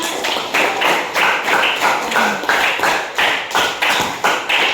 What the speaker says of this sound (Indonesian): Tepuk tangan untuknya, Nak.